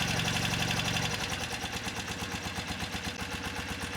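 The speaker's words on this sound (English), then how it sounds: "So with the bike only running on the right-hand cylinder" A BMW motorcycle engine idles unevenly on its right cylinder alone, the spark cut to the left, giving a close, steady low chugging pulse with a rough rhythmic beat.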